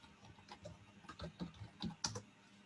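A search being typed on a computer keyboard, with quick irregular key clicks at close range, quiet and with no talking.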